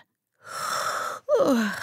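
A character in a German children's audio drama gives a hearty yawn, a breathy voiced exhale that rises then slides downward after a short intake, close and fairly loud with no other sound.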